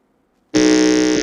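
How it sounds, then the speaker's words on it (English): A quiz contestant's buzzer tested at a junior high school quiz qualifier in Ghana's Ashanti Region: after a silent moment, one loud, steady electronic buzz sounds for about a second. "Let's hear the sound of the buzzer from Nana Kwenu Memorial."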